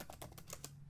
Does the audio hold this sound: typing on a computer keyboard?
yes